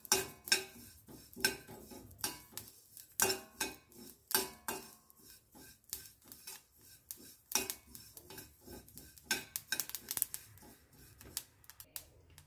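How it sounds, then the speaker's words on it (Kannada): Black and white sesame seeds roast in a pan, giving irregular sharp crackles and pops with scraping stirring sounds, close and fairly quiet. "ನೋಡಿ, ಎಳ್ಳೆಲ್ಲ ಚಟಪಟ ಅಂತ ಸೌಂಡ್ ಬರ್ತಾ ಇದೆ."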